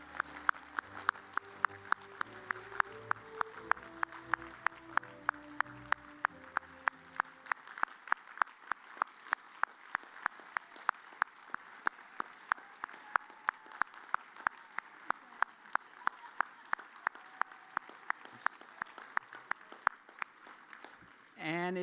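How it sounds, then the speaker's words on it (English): Graduates at a national coalitions academy graduation ceremony receive a round of applause, heard as steady, evenly spaced claps over a low background, with music fading out early on. "if I could just get one final round of applause for all of our graduates"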